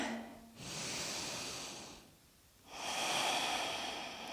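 Deep, slow breathing during a yoga pose: two long, soft airy exhales separated by a quiet pause, close and alone without talk.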